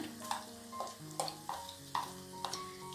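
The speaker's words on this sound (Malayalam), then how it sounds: "എന്നിട്ട് ജസ്റ്റ് ഒന്ന് നല്ല പോലെ ഒന്ന് ഇളക്കി കൊടുക്കുക കേട്ടോ" Onion and ground masala paste frying in a pan for a Kerala cuttlefish curry while a spoon stirs it, making soft scraping strokes about every half second over a faint sizzle, with steady tones beneath.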